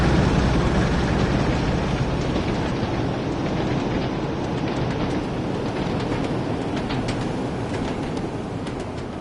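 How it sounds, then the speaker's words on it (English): Train wheels clickety-clack over rail joints in the Train Sim World 2020 simulation, a loud steady rumbling roll with faint repeating clicks throughout, no talking. "I love the old clickety-clack"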